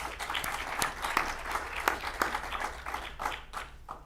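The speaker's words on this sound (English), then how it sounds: "Let's see another round of applause for Mr. Schuman." Audience at a benefit corporations anniversary event giving a round of applause for a guest, a moderate, somewhat distant patter of many hands with scattered sharper claps, tapering off toward the end.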